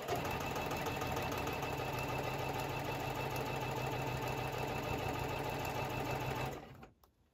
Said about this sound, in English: So now we're going to sew a 1/4 inch seam all the way down.